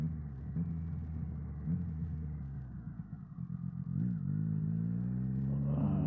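Triumph Street Triple motorcycle pulling hard on a private drag strip, a loud, steady engine roar rising in pitch through the gears, close and continuous with no talking.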